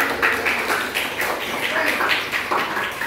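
Applause from a classroom or small group, a steady patter of clapping with rhythmic bursts lasting a few seconds at moderate loudness.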